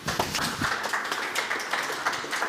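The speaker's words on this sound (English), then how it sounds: "Round of applause, please" Applause from an audience after a talk on UK Games Fund opportunities, a soft, steady patter of many hands clapping, fairly faint with no voices over it.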